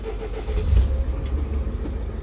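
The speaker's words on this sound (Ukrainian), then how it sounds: "Зараз ми цей автомобіль вам заведемо." A 2006 Mercedes Sprinter 413 diesel engine starting up nearby, a loud low rumble that settles into a steady idle with a brief rise in revs, no talking.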